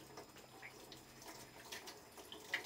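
Water runs from a tap during handwashing in a home kitchen, a quiet, steady wash of flow with faint splashes, heard softly and fairly distant with no one talking.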